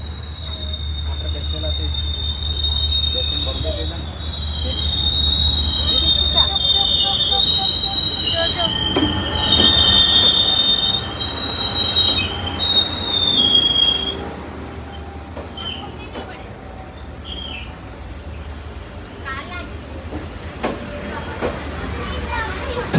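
A train rumbles past nearby along a narrow residential street in Vietnam, with squealing wheels and rattling cars, the low drone steady throughout while people chatter and children's voices rise over it.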